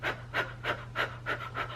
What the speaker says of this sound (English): There are a few times when panting breaths similar to blowing out a candle can be useful.